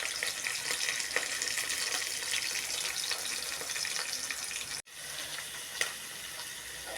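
Green chillies and curry leaves frying in hot oil for a curry, a loud continuous sizzle close by with a brief break near the end, no voices.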